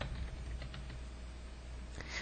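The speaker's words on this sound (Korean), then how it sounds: "필요한 글자를 타이핑 할게요." Quiet, close keystrokes tap unevenly on a computer keyboard, with a few soft clicks standing out.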